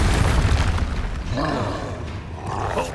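Magic spell blasts from Expulso and Confringo in the wizarding game Hogwarts Legacy: a deep booming explosion up front, then rumbling roars and crackling debris. The blasts are loud and close, with a grunting voice over them.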